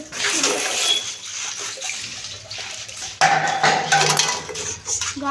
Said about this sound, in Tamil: இந்த வாட்டர் பாட்டில் மட்டும்தான் தண்ணி போகிற சத்தம் கேட்குதுல